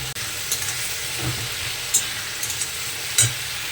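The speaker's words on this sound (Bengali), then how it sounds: "ভাজতে হবে আস্তে আস্তে।" Spice paste frying slowly in a pan during a picnic cook-out, a steady soft sizzle with occasional spoon scrapes and taps, close, with no talking.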